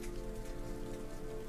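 Steady drizzly rain falling in a continuous soft patter, even and close, with no voices.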